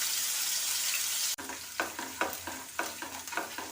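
Garlic and ginger hiss steadily in hot oil. Then a spoon stirs the pan in a quick run of rhythmic scrapes over a softer sizzle.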